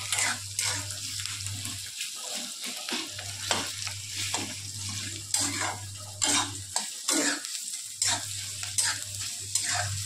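Onions frying in oil in a pan for a Maharashtrian-style curry, stirred with a spoon: continuous sizzle broken by repeated clinking, scraping strokes against the pan, close and moderate, with a low hum in the background.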